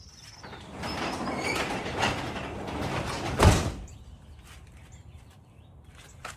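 A roll-up garage door is pulled shut, giving a rattling, rumbling slide for a couple of seconds. It ends in a sharp thud as it closes, followed by near quiet.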